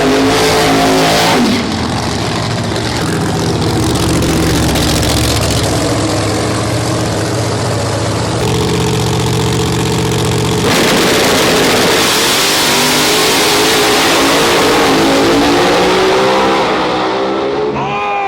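A Camaro drag racing in the left lane, engines roaring loud and close as they rev up, hold at full throttle and shift, a dense, continuous racing din with no clear speech.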